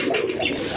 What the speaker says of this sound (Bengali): আরেক জোড়া কবুতর, এই যে দেখেন মিলি কালার ভিতরে এক জোড়া দেশি কবুতর, পিওর দেশি কবুতর।